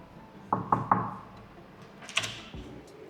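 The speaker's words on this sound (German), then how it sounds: "Ich klopfe mal an." Three quick knocks rap on an apartment door, followed by a fainter pair of knocks and a soft thump, close by in a quiet hallway.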